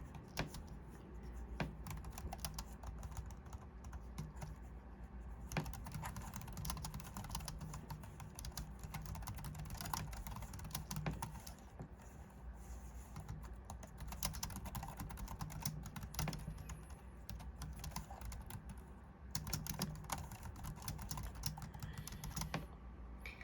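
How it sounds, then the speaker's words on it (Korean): Rapid, light clicking of keys typed on a compact iPad keyboard without a key skin cover continues steadily throughout, close and quiet, with short pauses between bursts. "이 키보드를 썼을 때 이런 소리가 들려요."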